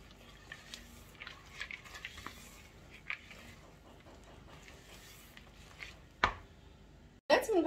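Brownie batter is stirred in a bowl with nuts folded in, giving soft, irregular thick scraping and squelching noises at close range, then a sharper knock and a louder clatter near the end.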